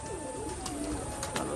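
Rajshahi pigeons coo steadily while feeding, soft rolling calls repeating close by with no voices over them.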